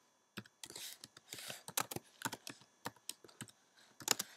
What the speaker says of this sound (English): I'm going to write in population density. At least I'll try to, since I don't type very well.